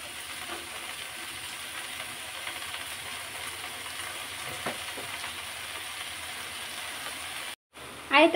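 Leafy greens go into a pan of frying onion and dried chili, giving a steady low sizzle and hiss for several seconds, then a brief gap and a sharp clatter at the end.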